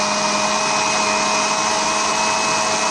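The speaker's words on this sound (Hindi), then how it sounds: "अब हम इसे ग्राइंड करेंगे।" An electric grinder whirs at high speed as it blends cream for homemade mango ice cream, a loud, steady, close motor whine with no variation or pause and no voices.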